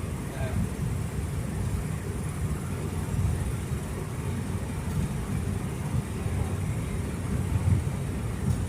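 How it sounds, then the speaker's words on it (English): Ford Fairlane fitted with dual exhausts and blast packs idling steadily, a deep continuous low rumble that holds an even level throughout with no revving. "It sounds really nice when it's just sitting there idling."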